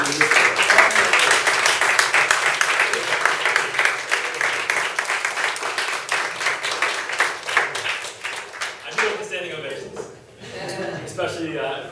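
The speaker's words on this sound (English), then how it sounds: "let's just give Bob a round of applause for doing this." Audience applause after a Toastmasters leadership presentation: dense, sustained clapping from a roomful of people that carries for about nine seconds, then thins out and fades as a voice starts speaking.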